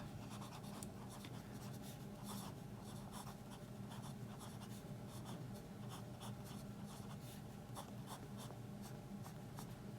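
A fountain pen with a wet stub nib scratches across paper, with faint, close, continuous strokes and small irregular ticks as letters form, and no voices.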